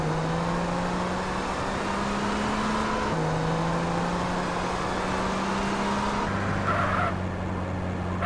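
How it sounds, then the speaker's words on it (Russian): A sports car engine in GTA San Andreas holds a steady, droning rev. Its pitch steps up and down with gear changes, continuous and fairly loud for the full stretch, with no talking. "Ух, что эти спорткары."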